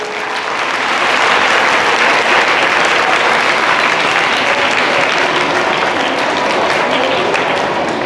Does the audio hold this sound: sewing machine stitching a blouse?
no